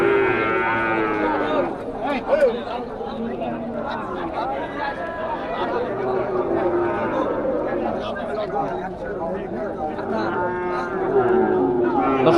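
Deshi bulls at a village ferry-ghat cattle market give deep, drawn-out moos over a constant crowd hubbub, with people talking and bargaining nearby throughout.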